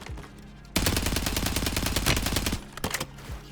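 Automatic weapon fire in Call of Duty: Warzone, a loud, rapid burst of shots lasting nearly two seconds, followed by a few scattered single shots, with no talk over it.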